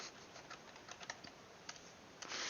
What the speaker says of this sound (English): I'm typing it out, just making sure